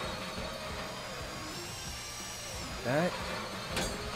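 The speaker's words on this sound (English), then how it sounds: "There we go. We're drilling." A drill bores into a bank vault in the GTA video game, a steady high whine with a drawn-out grinding drone. A voice speaks briefly over it and a short sharp squeal cuts in near the end.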